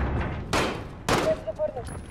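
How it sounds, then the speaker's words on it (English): Flashbang grenades detonating in the Call of Duty: Modern Warfare mission Into the Furnace, two sharp broadband bursts about half a second apart, each followed by a high ringing tone, over low game noise. "Some flashbangs."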